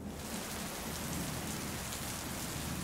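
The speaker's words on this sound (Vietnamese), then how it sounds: "Sao tự nhiên đổ mưa vậy chứ?" Rain pours down in an animated cartoon scene, a dense, even hiss of drops on surfaces that stays loud and unbroken throughout, with no voices over it.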